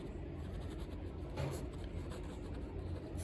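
Pen scratching steadily across paper while writing classroom notes, a continuous soft scribbling texture that runs the whole moment with no talk.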